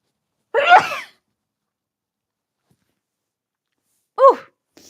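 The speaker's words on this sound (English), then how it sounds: "oh, I'm going to sneeze" Two separate sneezes, close and loud, the first a sharp burst, the second shorter and more nasal, with silence in between.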